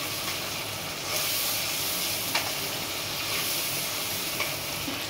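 Ground cumin, chili powder, a splash of water and chopped tomato sizzle hard in a pan, a loud continuous hiss close by with faint scrapes now and then.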